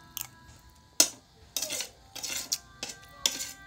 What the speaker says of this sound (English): That noise you're hearing is me scooping the food out of my plate.